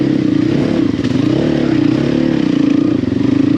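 A motorcycle rides along a muddy lane, its engine droning steadily and loud up close with a rough, continuous note and slight rises in revs throughout.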